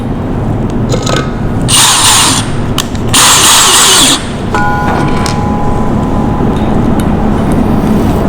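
A power drill driving screws into a Maxwell twin table base under a compact laminate top: loud close whirring bursts with pauses between, over a steady noisy background.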